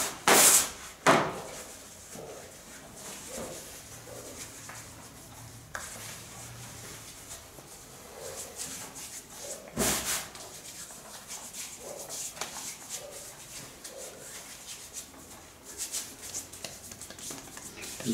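A spatula is scraped and knocked clean in a kitchen after making egg-yolk sweets, with quiet rubbing and scraping broken by a few sharp knocks and taps.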